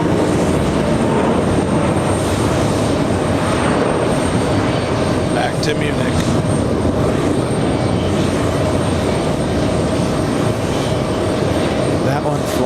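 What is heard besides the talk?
Lufthansa airliner departing JFK airport for Munich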